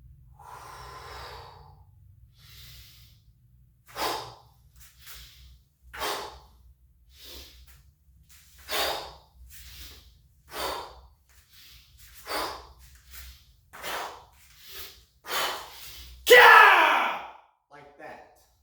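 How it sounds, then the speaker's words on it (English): Controlled breathing during kiai martial arts practice: a string of sharp, forceful exhalations and snorting breaths at roughly one-second spacing, close and clear, ending in a louder burst. "You're breathing the whole time."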